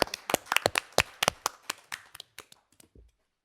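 A small group at a school board meeting claps, sharp distinct hand claps that start brisk and thin out to a few stragglers before stopping, with no talking.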